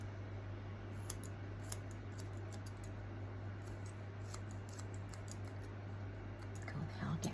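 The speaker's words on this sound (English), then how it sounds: "they are getting blunt, these scissors" Quiet, repeated snipping of blunt scissors cutting a fringe into a synthetic wig, soft crisp clicks at irregular intervals over a low background hum.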